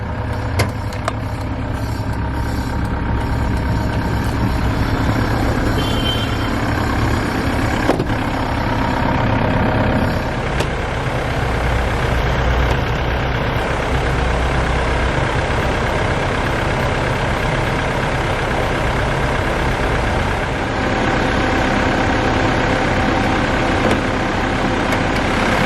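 A 2000 Mitsubishi Pajero Exceed idles steadily at close range with the hood open, its engine giving a constant low rumble with no change in pace throughout.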